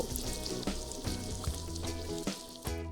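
Continuous sizzling of ginger and garlic frying in butter, close and steady, with a few brief clatters of a utensil in the pan.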